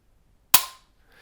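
A single sharp dry-fire trigger click from a Grand Power Stribog 9mm carbine, close and loud with a short decaying tail, alone in otherwise quiet surroundings.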